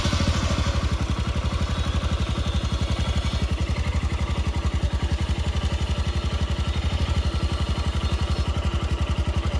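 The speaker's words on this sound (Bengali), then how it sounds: "কোল্ড স্টার্ট দিয়ে নিই, দেখিনি সব ঠিকঠাক আছে কিনা বাইকটা।" A motorcycle idles after a cold start on a cool morning in the North Bengal hills, its engine thumping in a fast, even, steady rhythm close by.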